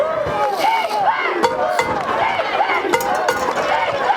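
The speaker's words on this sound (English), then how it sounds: "This crowd's trying to get the defense fired up, as they should." A high school football crowd, Clinch County Panthers against Johnson County Trojans, roars and yells to fire up the defense, a loud, dense wall of cheering with voices rising and falling across the stands.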